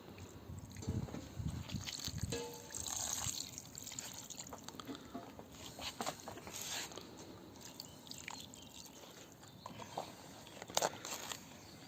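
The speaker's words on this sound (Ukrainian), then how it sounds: "зараз доляємо ще трішечки водички сюди до нього" Water poured into a cauldron of cabbage rolls with rice and buckwheat set on a stove, quiet trickling and splashing with some handling noise, faint and close.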